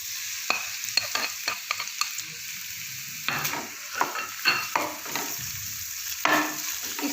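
Half a kilo of chicken mince sizzles and fries in a pan, with frequent scraping and stirring clatters over a steady hiss, close and moderately loud, no talking.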